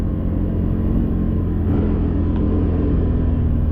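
Can-Am 850 XMR engine running steadily while riding at Lake Murray after an oil seal change, a constant deep rumbling drone heard close and loud with no speech.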